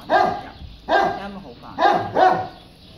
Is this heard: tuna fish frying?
no